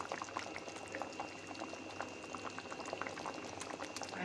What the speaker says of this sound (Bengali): এবার দিয়ে একটু খুব ভালোভাবে আরও কিছুক্ষণ ফুটিয়ে নেব।